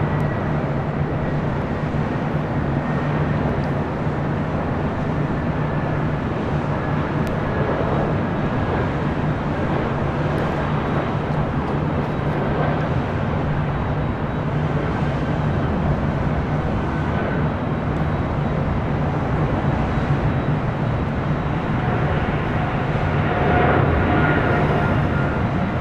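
An American Airlines airliner landing on runway 24 right at LAX: a steady, broad roar of jet engines rumbling continuously for the whole stretch, growing slightly louder near the end.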